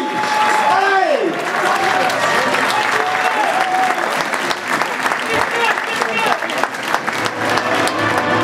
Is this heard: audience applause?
yes